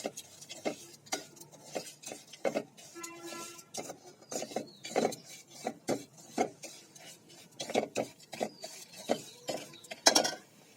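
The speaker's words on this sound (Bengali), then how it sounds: "চা পাতা দিব তিন চামচ নাড়াচাড়া করবো" Spoon stirring tea leaves in a metal pot while making tea, a string of sharp clinks and scrapes in an irregular rhythm, close and fairly quiet.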